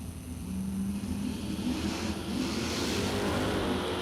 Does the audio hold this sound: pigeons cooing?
no